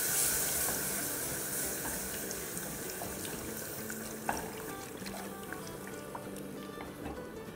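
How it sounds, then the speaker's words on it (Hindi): Two cups of milk poured into browned flour in a pan, a continuous soft liquid rush and splash that fades gradually, with faint clinks, close and quiet. "तो इस पॉइंट पर हम इसमें डालेंगे 2 कप दूध"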